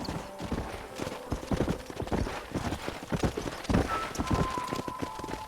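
Steady clip-clop of horse hooves at a trotting rhythm in Red Dead Redemption, continuous throughout, with faint background ambience and a brief whinny-like tone.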